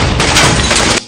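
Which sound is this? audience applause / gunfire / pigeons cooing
gunfire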